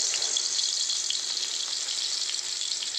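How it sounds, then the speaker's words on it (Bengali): Crushed garlic hits hot oil and sizzles, a steady bright hiss that holds at an even level throughout with small crackles, close and alone with no voices. "কটা রসুন থেতো করে রেখেছি দিয়ে দেবো।"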